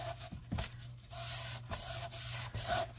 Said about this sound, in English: Go in there and rub off that glue.